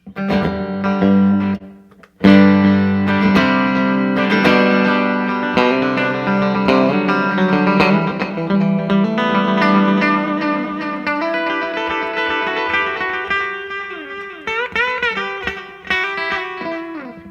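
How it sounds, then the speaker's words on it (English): An electric guitar through a 1967 Fender Super Reverb amp and digital delay plays melodic notes, each one echoed by repeating delays that smear into a shimmering wash, loud and close with no voices. "Just some digital delay here."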